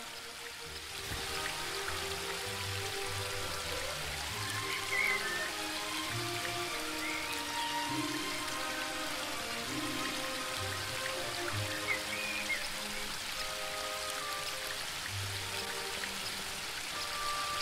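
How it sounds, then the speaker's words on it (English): Small mountain spring brook in The Book of Unwritten Tales 2, a soft continuous trickle and patter of flowing water with light droplet textures, steady and fairly quiet throughout with no voices. "The spring brook emerges up there."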